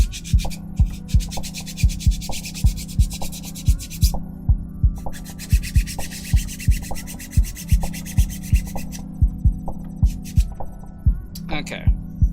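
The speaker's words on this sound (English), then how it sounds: "let's sand it a bit" A nail file rubbing across a plastic pill pack in steady back-and-forth strokes, close and rhythmic, with a low hum underneath and brief pauses between bursts of scraping.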